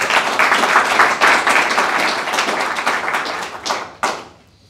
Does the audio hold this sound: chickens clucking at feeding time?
no